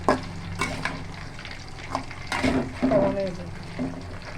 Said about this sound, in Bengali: এবার আমি এটা ভেজে নেব